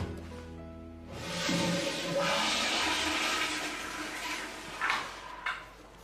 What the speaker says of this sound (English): You ever heard of courtesy flush?